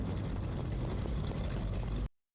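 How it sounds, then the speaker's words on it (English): An engine recording slowed down in an editing app drones as a deep, steady, rumbling roar like a failing motor, continuous and loud before cutting off abruptly. "See how it sounds more like an engine that's dying versus when it's here?"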